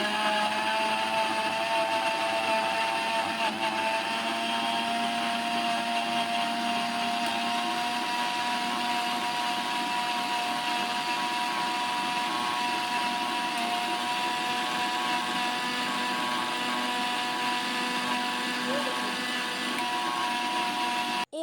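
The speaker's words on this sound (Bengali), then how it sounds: "সামান্য গোলমরিচ গুঁড়ো আর 1 টুকরো লেবুর রস, পুদিনা পাতা দিয়ে মিক্সিতে ভালো করে ব্লেন্ড করে নেব।" A mixer grinder blends lychee, mint leaves, black pepper and lemon juice into a sherbet, a loud continuous motor whine that holds steady for about twenty seconds with no talk.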